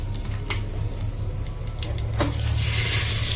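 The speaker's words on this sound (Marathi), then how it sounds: "तेल व्यवस्थित गरम केल्यानंतर त्यात राई टाकावी" Mustard seeds sizzle in hot oil inside a pressure cooker with a steady, close hiss over a low hum, broken by scattered little pops and clicks, the frying growing louder toward the end.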